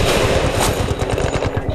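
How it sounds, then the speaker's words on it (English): Heavy machine gun fire from Battlefield Bad Company 2 rattles in a loud, rapid continuous burst up close, with no other sounds over it. "There's a heavy MG over there."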